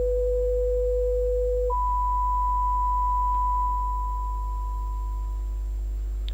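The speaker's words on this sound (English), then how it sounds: "So these are pure tones." Two steady pure sine test tones, 500 hertz and then 1000 hertz, each held alone with no other sound; the lower tone lasts under two seconds before the higher one takes over and fades slightly toward the end.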